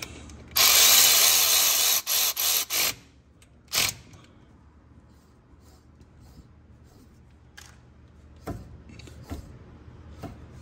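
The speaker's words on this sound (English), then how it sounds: "still hear it rubbing a little bit when I push in on it" Nissan Rogue 2009 A/C compressor clutch being spun by hand, giving soft intermittent rubbing and scraping, preceded by a loud hiss-like burst of several seconds and followed by faint scattered scrapes.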